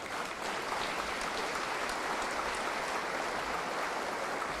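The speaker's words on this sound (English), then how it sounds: "Please give him a round of applause." Sustained, dense applause from a large crowd at a high school commencement ceremony, a continuous even wash of clapping heard alone throughout.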